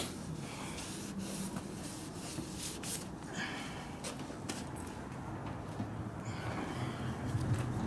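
A cylinder hone scrubs the bore of a 5.7L LS Chevy engine block, giving a steady, soft abrasive rubbing that carries on without a break at low level.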